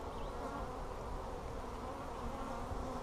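A dense swarm of hungry honeybees hums steadily around the hives in a bee yard, a continuous close buzz without pause and no voices.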